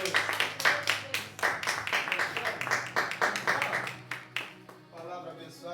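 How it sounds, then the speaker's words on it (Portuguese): Church congregation applauding in quick rhythmic claps, fairly loud and close, tapering off near the end as voices murmur beneath. "Vamos aplaudir Jesus."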